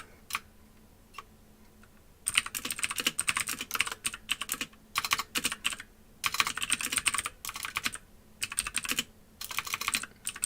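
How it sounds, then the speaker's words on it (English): Rapid clacking of keys on a computer keyboard in quick bursts with short pauses, steady and close, with no voices. "that was me typing in"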